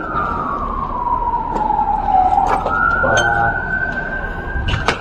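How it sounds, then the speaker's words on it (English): Ambulance siren sweeping past, its wailing tone falling and then rising again over steady background noise, with a few sharp knocks from inside an old derelict building. "Ambulance."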